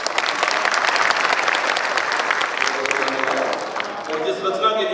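An audience at an international Hindi-Urdu poetry recital (kavi sammelan and mushaira) bursts into loud, dense applause. The clapping thins near the end as a voice and other sounds come in.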